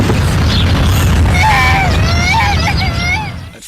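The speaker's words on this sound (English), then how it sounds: "This is the sound of a child being hit by a car at 30 miles an hour." A sound effect of a car striking a pedestrian at 30 mph: a loud, low, rumbling boom with wavering, cry-like tones layered over it, sustained before dropping away near the end.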